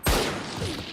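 A single sharp gunshot fired in the shooter game Valorant, a loud close crack with a sustained reverberant tail and no talk over it.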